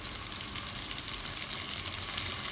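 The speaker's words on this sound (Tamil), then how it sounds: "வெங்காயம் பூண்டு ரெண்டுமே வறுபடுமே" Onion, garlic and tomato sautéing in a pan for a drumstick and brinjal gravy: a steady, close sizzle with light stirring scrapes running throughout.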